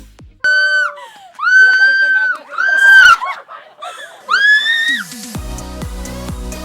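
People scream on the Village Swing, an extreme swing at Kamojan Village, Indonesia. Several long, wavering shrieks rise and fall one after another at close range, followed by a busier burst of mixed noise at the end.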